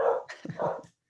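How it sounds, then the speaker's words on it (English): A pet dog at home lets out two or three quick, close barks and yips in a short burst, followed by silence. "Please excuse my dog."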